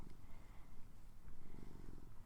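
A house cat purring close up, a soft, rhythmic rumbling with steady pulses, quiet and alone.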